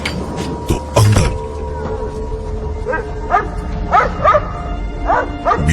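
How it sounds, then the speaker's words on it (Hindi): A small dog barks and yips indoors, a few sharp barks early, then a series of higher whimpering yelps spaced about a second apart, close and fairly loud over a low background hum. "भौंकने की आवाज आ रही थी"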